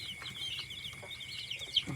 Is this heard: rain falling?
no